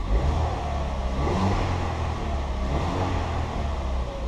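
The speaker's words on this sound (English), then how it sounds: "It's on cold start, so it's revving a little bit higher" A Ford Fiesta ST180 engine idles on cold start at a raised, steady rev, a constant low rumbling hum close by with slight fluctuations and no talking.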